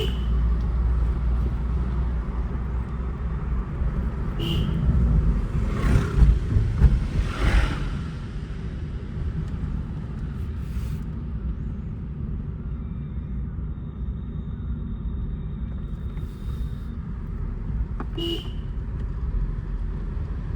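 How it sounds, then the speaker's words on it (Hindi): Steady low road rumble and engine drone inside a moving car on a trip to Tungnath, continuous and fairly loud throughout, with a few brief knocks and bumps and no talking. "चलू तो गाड़ी में बैस गेलहुँ हँ, और आप चलल जाए एत से आगू के लिए।"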